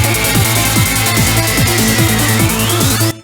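A Roland MC-303 groovebox plays its factory pattern from bank A, pattern 1: a dense, loud looping dance groove with steady punchy kick and bass pulses, bright hi-hat layers and a rising synth sweep, stopping abruptly near the end.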